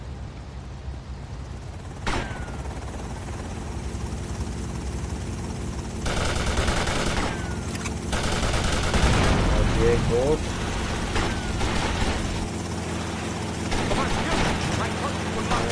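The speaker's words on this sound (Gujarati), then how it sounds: "Oh my god, they've got a helicopter!" Gunfire and a helicopter in the video game GTA Vice City: bursts of rapid shots crackle over a steady engine-like drone, growing denser midway, while someone talks over the action.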